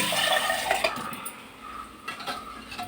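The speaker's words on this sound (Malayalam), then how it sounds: "കുറച്ച് വെള്ളം ഒഴിക്കണം കേട്ടോ." Water poured into undiluted buttermilk in a home kitchen, a short close splash and trickle with light clinks of utensils and vessels.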